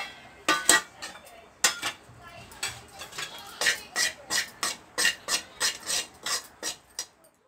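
A wooden spatula scrapes and stirs crushed cardamom with sugar in a pan, giving a steady run of close, rasping strokes that speed into a regular rhythm.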